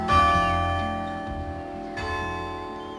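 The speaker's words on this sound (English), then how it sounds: "even the church bells ring out the famous tune" Church bells in Brixham ring out a melodic hymn tune, each strike ringing and overlapping with the next, fairly close and resonant.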